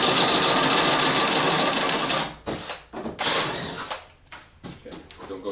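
An electric drill whines steadily and close while opening up a small hole in wood for a lag bolt, then stops and starts in short bursts with a voice talking during the pauses.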